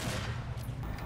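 Gunfire crackles throughout a zombie shooter game, Zombie Army 4: Dead War, with dense low rumbling shots and a steady background din, fairly loud and continuous.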